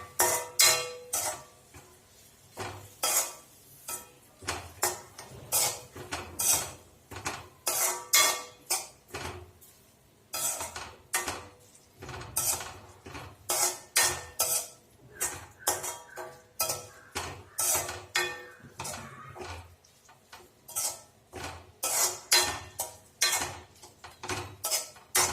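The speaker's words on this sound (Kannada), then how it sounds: "ನೀಟಾಗಿ ಮಿಕ್ಸ್ ಮಾಡ್ಕೋಬೇಕು." Okra (bendy) fry being stirred in a pan, with a utensil scraping and clinking against the metal in a steady, repeated rhythm of sharp knocks, close and fairly quiet, with no talking.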